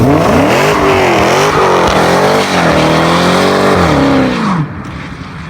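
A 707bhp Dodge Challenger Hellcat accelerates hard with traction control off, a loud, close supercharged engine note climbing through several gears with shifts between them, then dropping away abruptly at the end.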